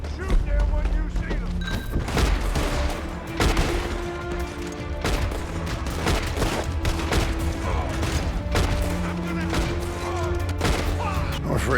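Dense, continuous gunfire from a Red Dead Online shootout, rapid overlapping shots and impacts over game music and voices, loud throughout.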